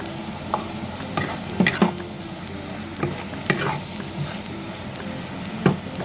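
Chili and onion leek sizzle as they are stir-fried with shrimp in a pan, a constant frying hiss broken by several sharp clanks and scrapes of a utensil stirring.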